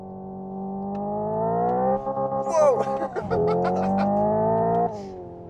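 Hyundai IONIQ 5 N accelerating hard with its simulated engine sound rising through the gears, bouncing off the rev limiter in short stuttering bursts, heard from inside the car with a brief voice partway through.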